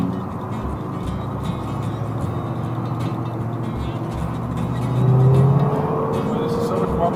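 An older Wanderlodge bus drives along at a steady speed, a constant low engine drone with road noise that swells briefly as it accelerates, under intermittent talk inside the cabin.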